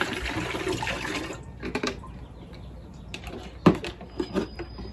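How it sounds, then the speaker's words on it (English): A hand-pumped camping shower sprayer releases water in short hissing bursts and splashes, up close and moderately loud, with pauses between sprays. "these sprayers that you just pump and"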